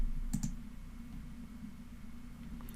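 A computer mouse is clicked twice in quick succession near the start, sharp and close, then a quiet room hum continues with one faint tick near the end.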